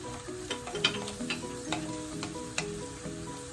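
Red peppers sauté in oil in a pan, a steady soft sizzle with a few sharp clicks of stirring and spatula taps, close and moderate in level, no talk.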